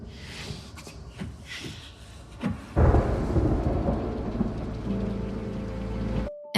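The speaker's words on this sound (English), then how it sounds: "Just enjoying the rain." Rain patters steadily on surfaces while a deep roll of thunder rumbles in partway through, loud and close, swelling then settling into a sustained downpour before cutting off.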